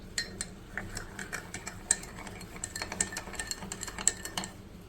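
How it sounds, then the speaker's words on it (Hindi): Sugar and cooking oil stirred together in a bowl for tandoori roti dough, with quick light clinks and scrapes of a spoon against the dish, fairly close and fairly quiet. "इन सारी चीज़ों को करेंगे मिक्स।"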